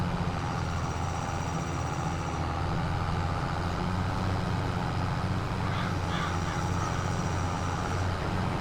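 Farm machinery in Farm Sim 22 backs into a crop field and fills a trailer: a steady, loud engine drone with low rumble runs throughout, and a faint hiss comes near the end.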